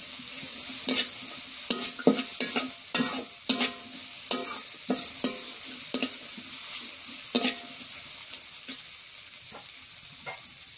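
Onion and green chili fry in mustard oil in a village kitchen, a steady close sizzle broken by frequent sharp stirring scrapes and spatula knocks against the pan.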